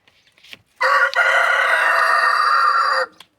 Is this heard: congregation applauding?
no